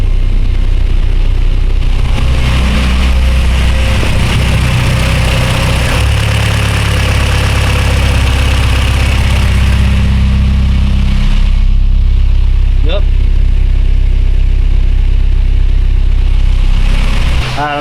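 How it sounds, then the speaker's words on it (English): A car with a Honda K24 engine and clearance problems idles steadily with a loud, continuous low rumble, while a person speaks briefly over it. "The car is idling in the back."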